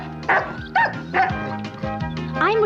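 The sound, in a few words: cartoon puppy barking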